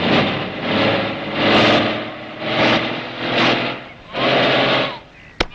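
A vehicle engine idles in place without moving, its steady drone rising and falling in several surges over a few seconds, with people talking nearby.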